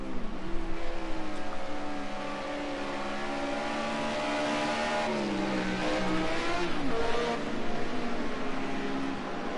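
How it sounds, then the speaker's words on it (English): Group A touring race cars drive through the bus stop chicane at Watkins Glen, their engines revving loudly and changing pitch as they brake and accelerate, several cars overlapping close by. "These cars coming through the bus stop."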